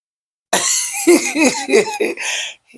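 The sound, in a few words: child coughing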